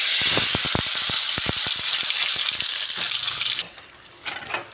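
Chopped onions dropped into hot oil for tempering, a loud close hiss and crackle with rapid popping bursts at first, settling into a quieter sizzle with a brief splash near the end.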